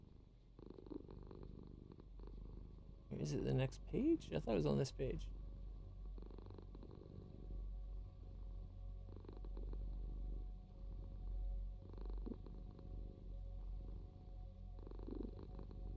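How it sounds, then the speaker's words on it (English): Cat on an animated desktop wallpaper purring softly and continuously in the background, a faint low rumble under a person talking. "I like that you can hear the cat like purring in the background"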